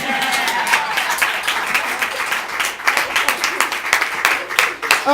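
An improv comedy audience breaks into loud, dense applause and clapping that carries on steadily from start to end, with a few voices mixed into the crowd.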